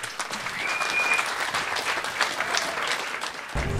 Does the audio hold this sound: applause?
yes